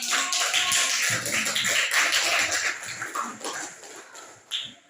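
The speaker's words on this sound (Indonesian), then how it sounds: "Kalau begitu beri tepuk tangan dulu" Students clapping in a classroom during group presentations, a steady patter of many hands at moderate distance that thins and fades out toward the end, with no talking.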